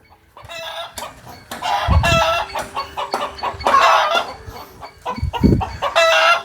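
Hens cluck and squawk in uneven bursts while a rooster crows nearby; close, busy farmyard fowl sounds with no talking.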